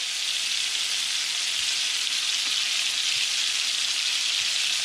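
Red snapper frying in plenty of butter, a loud, dense, unbroken sizzle with a steady hiss throughout and no voices.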